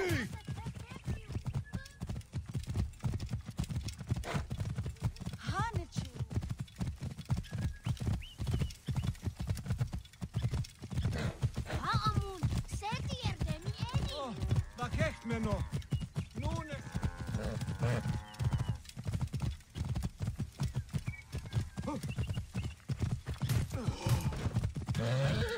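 Galloping horse hooves clatter in a steady rapid rhythm with occasional neighs and grunts during a wild horse race in the Assassin's Creed Origins video game, loud and continuous, with game voices speaking over parts of it.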